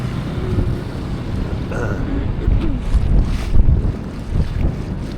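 Gozo ferry boat in Valletta harbour, heard as a steady rumbling engine drone with lapping water and gusty wind buffeting the microphone, the low churn swelling slightly midway.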